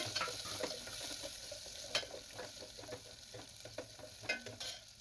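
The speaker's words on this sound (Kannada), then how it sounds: "ಕರಿಬೇವು ನಂತರ ಈರುಳ್ಳಿ ಹಾಕ್ಕೊಂಡು ಸ್ವಲ್ಪ ಬಾಡಿಸ್ಕೊಳ್ಳೋಣ" Onions sautéing in hot oil with mustard seeds and curry leaves for a village-style bassaru, giving a steady close sizzle with scattered crackles and the scrape of stirring, no voices present.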